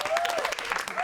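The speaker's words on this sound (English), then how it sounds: "Give her a round of applause." Audience applause after a participant finishes a demonstration at a masterclass, a brief burst of dense clapping from a room of people, fairly steady and close, with a faint voice over it.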